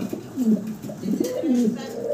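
A pair of red Mukhi pigeons coo repeatedly in low, warbling phrases close by, the calls coming in uneven bursts over soft background hiss.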